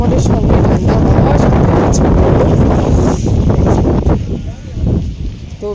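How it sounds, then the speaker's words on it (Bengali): Cold wind gusts over the microphone beside Madhuri Lake, a snowy mountain lake on the Tawang to Bumla Pass route, as a steady, loud roaring buffet with a voice talking beneath it. "ঠান্ডা হাওয়াও এখানে ভালো আছে"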